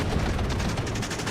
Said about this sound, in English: Oh, they're shooting behind them as well.